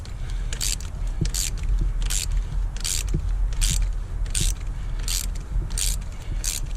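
A ratchet turns a Time-Sert thread insert on a 2014 GMC Sierra, making a close, regular run of about ten clicking strokes with mechanical scraping in between, with no talk over it.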